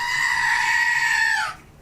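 A goat bleat sound effect, one sustained nasal wavering cry that holds steady and then drops in pitch as it cuts off, loud and alone.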